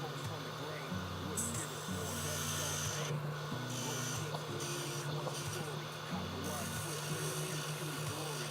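Sanding a wooden blank for a herbal cigarette holder, a steady loud abrasive rasping and whirring that runs without pause throughout, close up, with a constant machine drone underneath.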